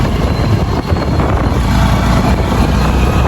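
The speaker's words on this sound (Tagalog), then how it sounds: "sumakay na kami ng motor" Riding a motorcycle, a loud, steady rumble of engine and wind close to the microphone that runs without a break and has no talk.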